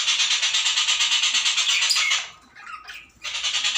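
Birds kept outdoors squawk in a rapid, shrill, continuous pulsing chatter, loud and near, that breaks off briefly before starting again.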